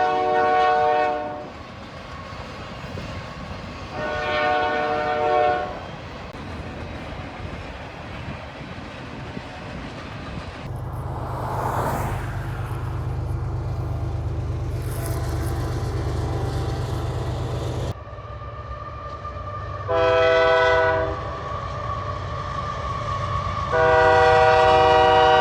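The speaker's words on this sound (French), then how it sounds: "Et dans les prairies, il y a des trains aussi." Freight trains rolling across the Canadian prairies in winter, a steady rumble of passing cars with clickety-clack, and a loud horn sounding in repeated long blasts at the start and again near the end.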